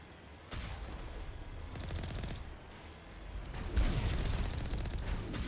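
Rocket blasts and sniper shots ring out in a Mass Effect firefight, with a run of rapid crackling bursts, a lull, then a heavier booming impact followed by continued gunfire, all fairly loud with no talk over it.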